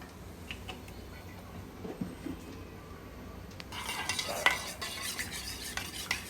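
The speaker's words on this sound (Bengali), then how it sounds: "আমি ডিমটা ভেজে নেব।" Egg frying in hot oil in a wok, a quiet sizzle that swells louder partway through, with intermittent stirring scrapes and clinks, no talking.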